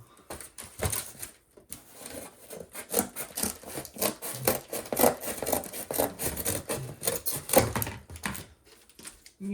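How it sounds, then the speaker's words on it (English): Hand-cutting wood for a minibike photo frame, with irregular rasping and scraping strokes in bursts of varying loudness close by and short pauses between, no voices. "So what I'm going to do is I'm going to cut out this section right here."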